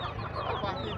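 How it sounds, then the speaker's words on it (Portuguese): Chickens cluck and chatter continuously at a crowded poultry market in Santa Cruz do Capibaribe, Pernambuco, a dense, close flock sound filling the brief moment. "olhando essas galinhas tão boas aí"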